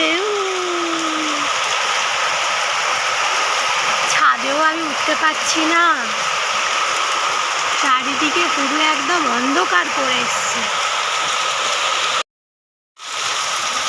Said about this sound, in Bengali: খুব জোরে বৃষ্টি হচ্ছে